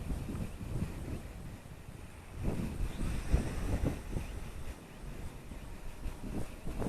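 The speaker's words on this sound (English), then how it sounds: "Whoa, wind." Outdoor wind buffets the microphone in low, uneven gusts that swell and fade, with faint rushing in the background and no clear speech.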